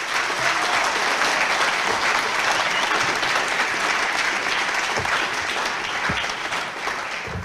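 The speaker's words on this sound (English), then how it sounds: "Please, a warm round of applause for them." Warm, sustained applause from a debate audience for election candidates, a dense, even wash of clapping hands that carries on unbroken and fairly loud with no talk over it.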